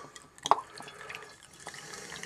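Ice-cold vodka from the freezer is poured into a jar while making a ginger and cranberry liqueur, giving a brief liquid splash and trickle with a sharp pour onset, fairly faint and close, with no talk.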